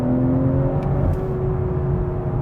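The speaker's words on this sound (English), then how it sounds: "hit start, hard on the brake and then flat on the accelerator" A 2023 BMW M340i launches hard from a standstill, its engine note loud and continuous throughout, a steady deep drone with rising harmonic tones as it pulls off the line, heard close from inside the cabin.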